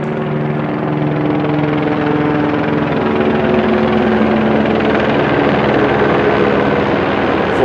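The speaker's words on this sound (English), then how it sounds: "There's the helicopter flying directly overhead." A helicopter flying directly overhead at about 2 a.m. roars loud and close, its rotor drone steady and unbroken from start to finish.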